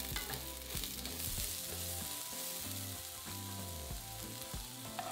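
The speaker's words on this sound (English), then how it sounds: "Add in a sliced onion and cook for 2 minutes until slightly softened." Sliced onion frying in oil in a pan over medium heat, a steady close sizzle with occasional soft stirring clatter, with no voices.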